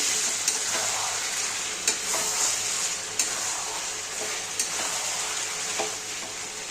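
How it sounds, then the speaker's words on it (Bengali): Pieces of chicken kosha (Bengali dry-fried spiced chicken) fry in a pan with a constant sizzle, while a spatula scrapes through them at a slow, regular pace, each stroke a distinct close scrape above the hiss. "চিকেনটা একটু ঢেকে দিয়েছিলাম, আমি একটু নেড়ে দিচ্ছি।"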